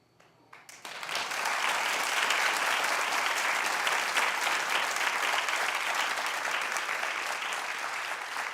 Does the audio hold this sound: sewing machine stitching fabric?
no